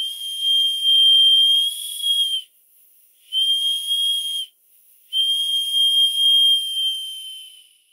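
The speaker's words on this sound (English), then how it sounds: "The whistle blows quite well, but only on low pressure." A small, high-pitched steam whistle on a vintage model steam launch, running on low pressure, blows three times, the blasts separated by short gaps and accompanied by a faint steamy hiss.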